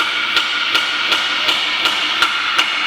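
A hammer strikes metal while split rims are built for a car, landing seven sharp, evenly spaced blows over a steady, loud workshop hum with no one talking.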